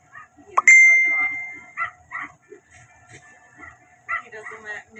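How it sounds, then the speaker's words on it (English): A dog gives a few short yips and whimpering barks close by, scattered among other light sounds and a sharp ringing ding. "He's our dog."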